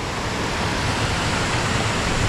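Steady, loud roar of water pouring down the Careyburn waterfall, a dense continuous rush that fills the whole clip with no other sounds.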